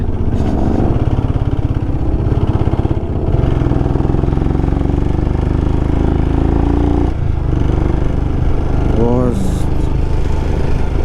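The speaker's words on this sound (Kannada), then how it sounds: "ತುಂಬ ನಾಯ್ಸ್ ಬರ್ತಾ ಇದೆ ಇಂಜಿನಿಂದ" A Royal Enfield Himalayan motorcycle engine, stopped during a breakdown on a Northeast road trip, runs loud and steady with an abnormal noise, a continuous low chugging drone that fills the whole stretch up close.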